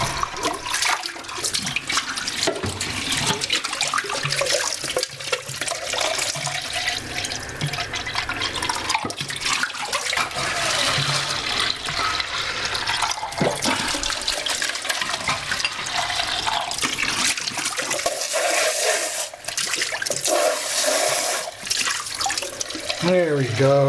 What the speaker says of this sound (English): go back over here and top off these jars with a little bit of water